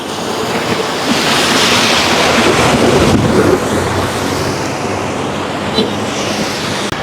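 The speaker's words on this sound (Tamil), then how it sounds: "இப்போ பாருங்க சின்ன ஓடைக்குள்ள எல்லாம் கல் பாறைகளுக்குள்ள வருது அங்கேருந்து வருது மலை உச்சியில இருந்து" Water rushes continuously over rocks in a small mountain stream in a hilly tea-growing area, a loud, broad roar that stays steady throughout with some wind buffeting and no talk.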